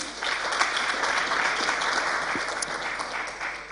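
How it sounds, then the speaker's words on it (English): An audience at a Mandela University campus event claps steadily throughout, a dense, even wash of applause at moderate distance, with no voices standing out. "A round of applause for Uyolokazi."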